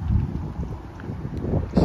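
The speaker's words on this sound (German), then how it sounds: "Sehr windig" Gusty wind buffets the microphone outdoors, a low rumbling whoosh that rises and falls, with no voices.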